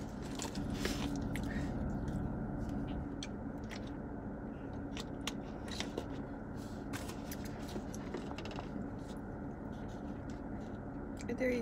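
Close-up crunchy chewing of a burger with jalapenos, with steady bites and munching on crisp food carrying on throughout.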